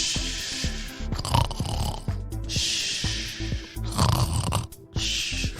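A voice imitates deep sleep snoring, with rhythmic, guttural snorts and rasping inhales alternating with breathy exhales, loud and close over several breaths.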